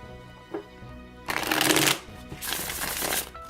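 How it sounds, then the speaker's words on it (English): A deck of Tarot of the Secret Forest cards being shuffled close up, two bursts of riffling with a short pause between them, crisp and fairly loud. "Love the way they shuffle."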